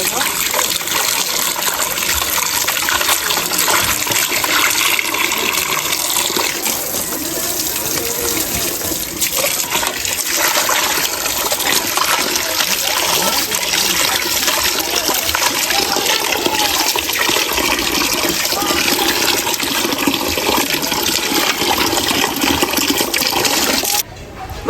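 Cut pieces of fish are washed under running tap water in a sink, a loud continuous splashing rush with occasional knocks and clinks, close to the microphone throughout.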